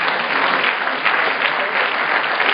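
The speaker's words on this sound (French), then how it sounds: "Donc on va applaudir aussi," A crowd at a startup weekend final pitch event applauds continuously, dense and close, a steady wash of clapping with no pauses throughout.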